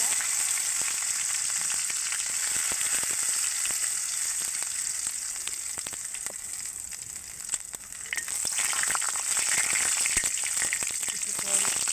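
Bay leaves and garam masala crackle and sizzle in hot oil for a pork curry, a dense close frying hiss with light stirring that swells again near the end.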